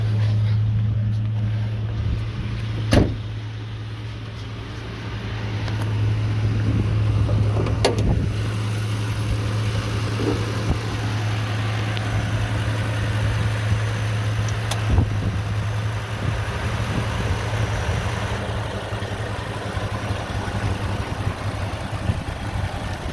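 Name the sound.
2006 Ford F250 V10 engine idling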